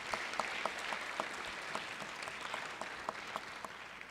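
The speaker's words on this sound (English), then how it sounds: "If we could give them a round of applause." Soft, distant applause ripples through a legislative House chamber, steady and faint with scattered louder claps.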